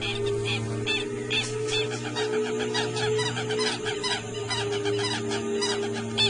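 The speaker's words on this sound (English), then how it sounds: "The appearance of an anaconda in the open is cause for a lot of squawking and screeching from the bird population." Birds squawking and screeching as they mob an anaconda out in the open, a dense, loud chorus of harsh honking and clucking calls over a steady droning background.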